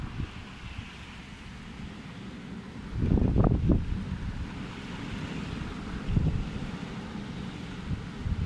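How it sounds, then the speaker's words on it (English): Wind from a storm squall line rushes and buffets the microphone in steady broadband noise, with a stronger gust swelling around the middle and another rumbling burst later. "there comes some wind gusts over there"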